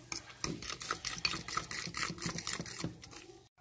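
Flour mixture for croissant dough being stirred by hand in a bowl, a quick series of scraping, rubbing strokes in an uneven rhythm, close and fairly quiet.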